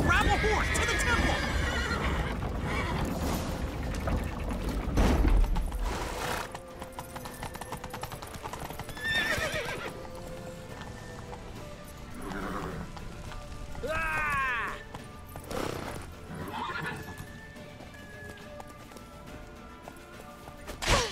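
Horses neigh and whinny with rapid hoofbeats in The Witcher 3, loud and close over game music and shouting voices, with a burst of galloping near the start and further whinnies later.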